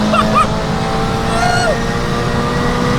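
An 800 hp Volkswagen Golf 5 GTI engine holds at high revs and accelerates, a loud steady roar with rising whine tones from inside the car, with a voice faintly underneath.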